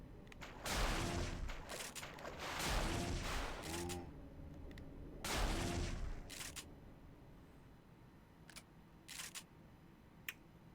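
Gunfire in the Parasite Eve II video game, several bursts of loud rapid shots in the first six seconds, then quieter scattered clicks and single reports.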